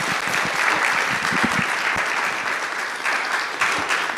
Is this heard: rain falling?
no